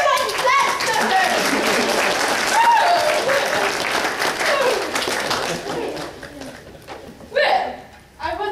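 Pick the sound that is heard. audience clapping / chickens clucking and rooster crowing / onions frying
audience clapping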